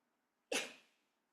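A single sharp sneeze bursts out of near silence, then fades quickly.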